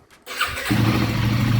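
A Royal Enfield Himalayan 450 motorcycle starts up close by, with a brief starter whir that catches into a steady, loud idle.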